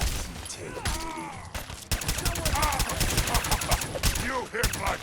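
Dense, rapid gunfire in the video game Fallout 4: bursts of automatic fire and repeated shots crowd the whole clip at close range, with a brief lull near the middle before the shooting resumes.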